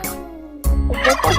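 A turkey gobbles in two loud, close bursts separated by a short pause, the harsh rattling calls standing alone with no speech over them.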